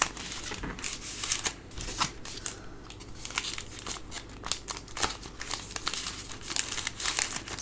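A cellophane bag crinkles and rustles continuously as greeting cards with envelopes are slid inside, close and fairly quiet with irregular crisp crackles.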